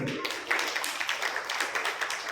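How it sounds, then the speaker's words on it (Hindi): A school audience at a parenting talk claps in a steady, fairly even rhythm, with the moderately loud claps repeating across the whole stretch. "इस बात पे आपकी जोरदार तालियों को रखो"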